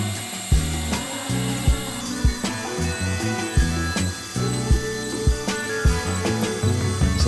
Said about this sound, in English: the machine is drilling the holes in which the screws and fasteners will attach the letters to this piece of plywood